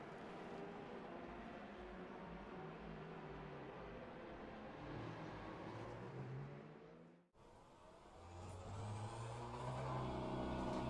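Ferrari 488 GTE race car engine at Imola in the sim racing game Le Mans Ultimate, a steady loud engine drone with rising revs, a brief cut to near silence, then a stronger revving roar, with no voices.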